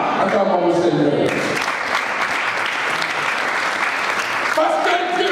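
A church congregation breaks into loud, sustained applause, a dense wash of clapping filling the room after a voice rises at the start, then tapering as a voice returns near the end.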